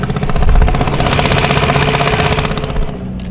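Engine of an MK5 daily-driver car running, a loud close steady rumble with a pulsing throb that eases slightly near the end.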